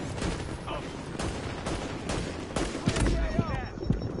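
Sniper rifle shots from The Division fired blind from cover, several sharp cracks spaced irregularly over a few seconds amid a busy firefight, with a voice talking underneath.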